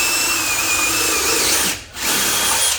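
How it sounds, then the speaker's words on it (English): A power drill bores a pilot hole into a wooden door frame, whining loudly and steadily up close, pausing briefly for a moment before spinning up again. "I'm gonna drill this halfway in, so then my screw can go into there"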